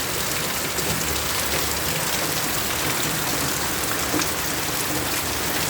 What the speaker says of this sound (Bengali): এত বৃষ্টি, বাইরের অবস্থা দেখানো সম্ভব হচ্ছে না